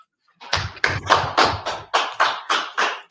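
Audience members clap in a short burst of about nine sharp, evenly spaced claps, close and clear, with no talking over them.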